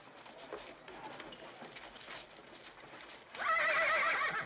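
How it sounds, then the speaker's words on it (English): A horse in a 1949 Western film whinnies loudly near the end, a bright rising neigh, after a stretch of soft clip-clopping hooves and faint background murmur. "You scare my horse."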